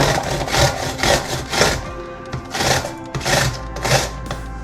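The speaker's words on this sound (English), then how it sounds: "So firstly I'm going to grate about 1/3 of a cucumber." A cucumber rubbed back and forth across a grater in steady rasping strokes, about six close, moderately loud passes with short gaps between them.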